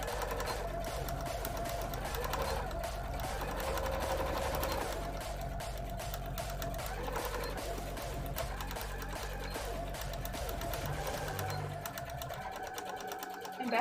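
Close, continuous whirring of a sewing machine doing free-motion embroidery, moving back and forth to fill in a cosplay design, running steadily for the whole stretch before it stops abruptly at the end.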